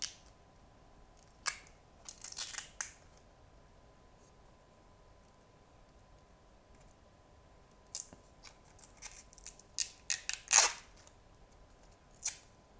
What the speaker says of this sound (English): we have the blue plastic film. Just remove that right now.